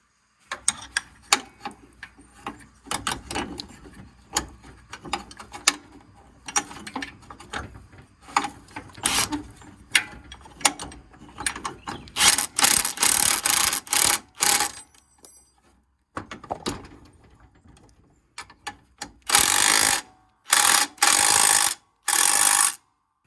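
Tightening bolts on the steering gear of a John Deere E140 lawn tractor: irregular bursts of quick ratcheting clicks and metallic rasping, close up, with pauses between runs and faster, louder ratchet strokes toward the end.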